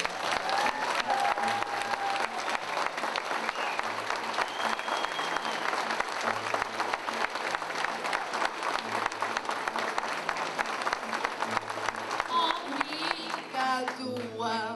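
An audience applauds a singer named Maria Clara at a 2010 Portuguese-language cantoria performance: dense, steady clapping fills the whole stretch at full strength, with a low rhythmic accompaniment underneath and a voice briefly rising near the end.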